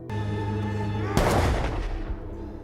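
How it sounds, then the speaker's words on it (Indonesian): A gunshot in a gangster action film cracks sharply and loudly over a sustained tonal music bed, followed by a short decaying reverberant tail. "ternyata itu adalah tembakan dari Billy"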